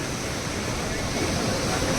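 A waterfall in Pokhara, Nepal, pouring water down into a deep gorge, gives a loud, steady, unbroken roar across the whole clip, close by and without pauses.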